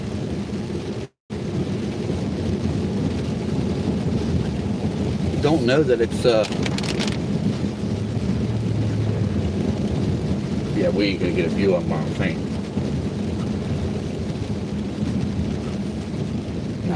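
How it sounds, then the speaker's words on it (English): Steady rain falls during a thunderstorm, a dense continuous wash with deep rumbling underneath, while people talk briefly over it. "It's still raining here."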